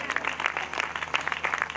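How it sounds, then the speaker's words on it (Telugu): An audience at a church anniversary gathering claps steadily and fairly loudly, a dense patter of hands sustained throughout with no voices over it. "చప్పట్లు కొట్టండి గట్టి"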